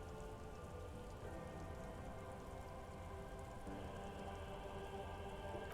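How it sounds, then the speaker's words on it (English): Steady rain falls throughout in the Disco Elysium video game, a soft, even hiss of drops on surfaces, continuous and fairly quiet with no other sounds. "She puts her hand in the rain."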